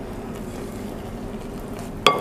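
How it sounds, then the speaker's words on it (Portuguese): Boiling water is poured over tapioca starch and stirred for biscuits de polvilho, giving a soft continuous sizzling, scraping stir close by, ending in a sharp clink of a utensil against the bowl. "a gente tem que escaldar esse polvilho aqui"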